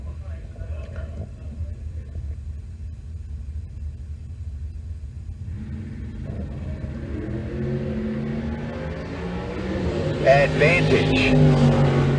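An El Camino and a Firebird launch in a bracket drag race at Tucson Dragway. Distant engine rumble under a PA announcer builds into a louder, rising roar as the cars accelerate away.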